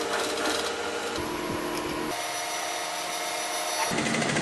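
A sewing machine stitching a slide pocket onto pants, a loud close continuous mechanical whir that changes pitch in sections with brief pauses, with no talk.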